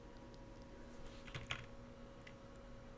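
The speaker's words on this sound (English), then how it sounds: "We'll practice typing." Keys clatter in quick, light bursts as a Sims 4 character practices typing on a computer keyboard in the video game, soft clicks over a quiet electronic hum with a steady background tone.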